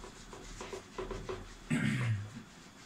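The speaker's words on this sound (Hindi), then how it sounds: "ये दोनों पार्ट अब मैं रब करने वाला हूं" Rubbing on a board to erase written working, heard as soft scrubbing strokes that grow into a louder, rougher rub near the end, close by and without talk.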